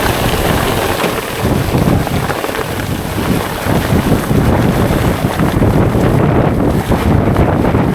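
An outrigger boat's engine runs out at sea over a reef, a loud low drone smothered by heavy wind buffeting against the microphone, continuous with no voices.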